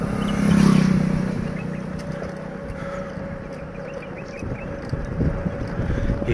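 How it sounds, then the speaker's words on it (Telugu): A motorbike on a forest road swells up loud and close, then passes and fades into a steady rumble with wind and rustling in the background. "ఇంకొక బైక్ వచ్చిందప్పా."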